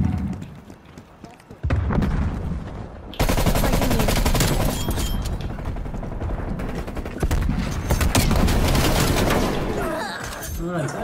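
Rapid bursts of QBZ-83 rifle fire in the Black Ops Cold War multiplayer game, loud and dense, with sustained volleys running most of the clip under occasional talk.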